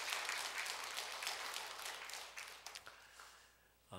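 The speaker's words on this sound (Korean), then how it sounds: "우리 격려의 박수 힘찬 하나님 앞에 영광 올려드립니다" A church congregation at a Sunday service applauds in encouragement, a fairly soft wash of many hands clapping that gradually thins into a few scattered claps before fading out.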